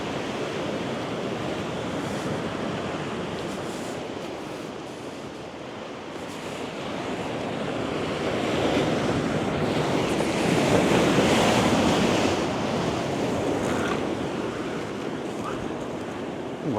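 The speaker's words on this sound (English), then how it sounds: "swell's just kicking up a bit" Sea swell breaks and rolls onto the Northumberland shore at night, a loud continuous wash of surf mixed with wind buffeting the microphone, swelling toward the middle.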